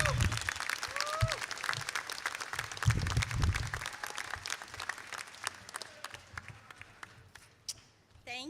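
A rally crowd claps to welcome a speaker to the stage. The applause is dense and fairly distant, with a few whoops, and slowly thins toward the end.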